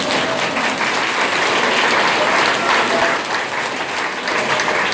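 Sustained audience applause filling a hall at a business presentation, dense and steady clapping from a large crowd throughout with no voices rising above it.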